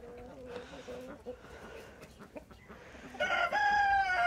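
A year-old rooster at a farm coop, recovering after a predator attack, crows loudly near the end, following softer clucking and low talk from a person nearby.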